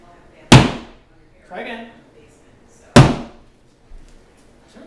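A hammer struck against a wall during home demolition, two sharp loud impacts a couple of seconds apart with debris rattle after, while people talk between the blows.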